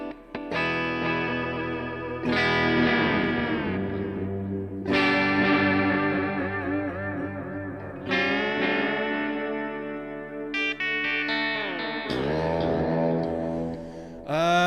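Sustained electric guitar chords ring out one after another, each washed in reverb and echoing delay that trails between strums, loud and full.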